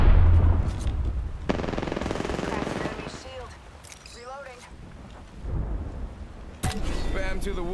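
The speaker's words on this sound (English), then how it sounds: "Getting shot at." Gunfire in Apex Legends comes in heavy automatic bursts and booming impacts, with game effects and a rumbling low end, mixed under talk from players.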